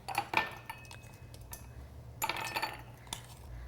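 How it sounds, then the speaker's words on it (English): Ice cubes clinking into a cocktail glass for an Evander Old Fashioned, a few light, close clinks and taps in two short bursts in a quiet kitchen, with no talking. "I'm going to fill my glass with some ice"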